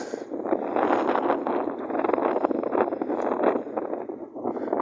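Gusty outdoor wind buffets the microphone in a continuous rough rumble that swells and eases, loud and close, with no clear voice over it.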